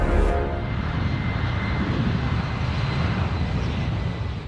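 Steady, loud drone of an airplane engine in the film Rampage, a continuous broadband roar holding evenly from start to finish with no voices over it.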